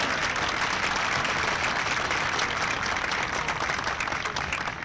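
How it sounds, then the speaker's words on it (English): A large outdoor rally crowd on Boston Common bursts into dense, sustained applause, loud and steady clapping filling the whole stretch with no break. "Give yourself a round of applause for that."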